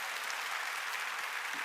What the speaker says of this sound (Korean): 본인에게 큰 박수 한번 보내주시기 바랍니다